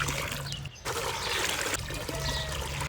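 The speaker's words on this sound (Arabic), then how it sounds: "راح احط بالطنجرة 3 لتر مي." Tap water streams steadily into a cooking pot, three litres being added for a rose-petal drink, a continuous close pouring trickle with a brief pause near the start.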